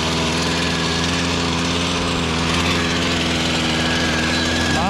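A new Husqvarna lawn mower engine runs loud and close with a steady, buzzing drone and strong rhythmic vibration throughout.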